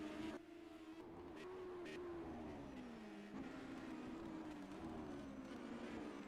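Race car engine in a sim racing game at the British Masters, a steady loud whine whose pitch rises and falls through gear changes, with blips that suggest downshifts.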